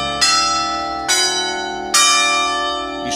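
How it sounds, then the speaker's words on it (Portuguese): A church bell tolls three times, each strike loud and ringing with a long, slowly decaying hum that overlaps the next. "Bem, até temos o sino."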